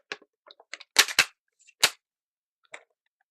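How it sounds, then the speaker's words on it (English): A gun fires in a video game in a few sharp, close cracks, a quick cluster of three shots followed by single reports, each sharp and snappy with near silence between them. "I'm going to try to do a burst fire and just see if it will do"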